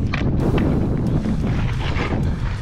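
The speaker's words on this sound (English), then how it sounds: "Getting windy, I had to put my windscreen on." Wind buffets a microphone fitted with a windscreen on a Yellowstone River bank, making a loud, constant, close rumbling roar with no speech.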